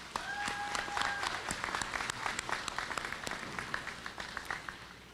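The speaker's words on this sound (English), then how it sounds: "please give them a round of applause for their support" A gymnasium crowd at a college commencement claps for graduates' supporters, with a dense applause bed, scattered sharper individual claps and a brief whistle near the start.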